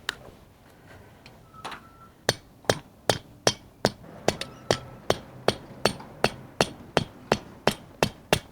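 Steady hammer blows, about two per second, ringing sharply and close by after a few scattered lighter taps at the start, while edging a garden path.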